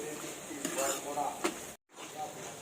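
Egg curry being stirred and mixed in a pan, soft scraping and sizzling with light utensil clinks, quiet and close, broken by a brief silent gap.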